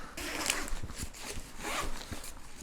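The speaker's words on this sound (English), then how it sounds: "there's also another zipper" Zipper on a Mokwheel ebike accessory bag being pulled open, a close, fairly loud zip in a few quick rasping strokes with brief pauses between them.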